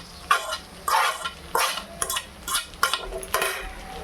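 Tomato and chili frying with onion in a pan, stirred with a utensil: repeated scraping strokes roughly every half second over a soft sizzle, close and clear with no talking.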